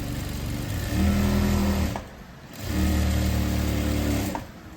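A sewing machine stitches lace onto a blouse sleeve in two bursts of steady, close motorized whirring, each lasting over a second, with a brief quieter pause between them and a constant background hum.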